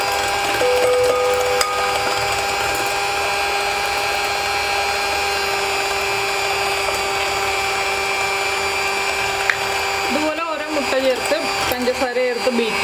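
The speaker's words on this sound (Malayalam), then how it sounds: "അപ്പോൾ നമ്മൾ നമ്മുടെ മുട്ടയും പഞ്ചസാരയും ചേർത്ത് നന്നായിട്ട് ബീറ്റ് ചെയ്തെടുത്തിട്ടുണ്ട്." An electric mixer beats eggs and sugar for an orange cake, giving a steady, even motor whine with a sustained tone that holds throughout. A voice speaks briefly over it near the end.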